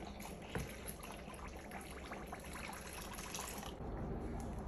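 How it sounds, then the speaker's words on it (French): Warm water pours steadily into an ice cream mixture made with Nido milk, a continuous close trickle and splash that swells slightly toward the end, with no talk. "Maintenant, je rajoute l'eau tiède."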